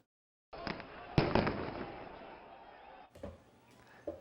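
A sudden loud burst of bangs and crackling erupts from stun grenades at a violent protest at the U.S. Embassy in Baghdad, with a sharp blast near the start and more bangs near the end.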